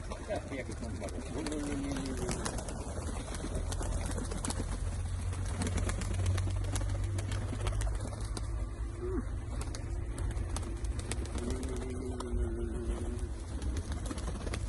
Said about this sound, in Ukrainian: Хороший голубок.